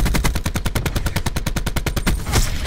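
Rapid automatic gunfire from Call of Duty multiplayer, a long, loud, evenly spaced stream of about two dozen close shots that ends in a final heavier blast.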